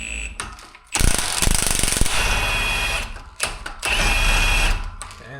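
Power tool spinning a socket on a 2010-2015 Camaro strut during a strut install, heard in two loud, close bursts of whirring, rattling impact with short pauses between, no talking over it.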